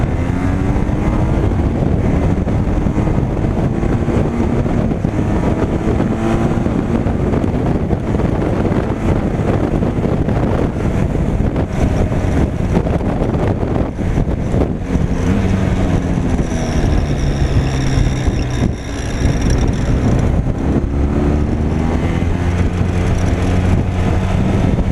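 Benelli TRK 502 X motorcycle pulling away in second gear after braking, its engine note rising steadily in pitch under heavy, constant wind rush across the microphone, with no talk.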